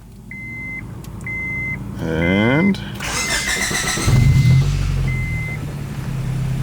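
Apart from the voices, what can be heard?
Honda Prelude engine starting up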